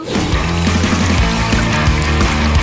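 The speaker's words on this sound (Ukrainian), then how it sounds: "Ха, а ось і кола. Виливаємо." Cola pours out in a steady splashing, gurgling stream, loud and close, for a few seconds with no talking.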